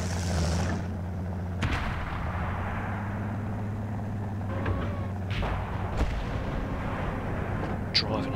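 Tank cannon fire in a tank battle video game: a few heavy booming shots, loud and sharp, over a constant low engine rumble.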